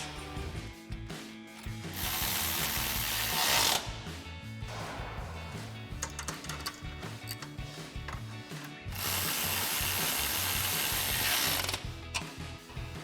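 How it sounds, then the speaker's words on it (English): A hand ratchet with 10mm and 11mm sockets tightens the shock bolts on a Jeep Wrangler JK during a suspension lift install. The pawl clicks come in rapid close bursts between pauses, and two longer stretches of fast ratcheting stand out. "tighten down our top mount here using our 10mm socket on our ratchet and our bottom bolt and nut using our 11mm socket on our ratchet and 11mm wrench"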